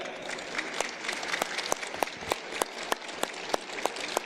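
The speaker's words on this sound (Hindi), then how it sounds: "तो एक बार इन दोनों ही बच्चों के लिए जोरदार ताली बजाओ।" Loud applause from a yoga session audience for two children, a dense steady wash of many hands clapping with a few sharper claps standing out, no voices.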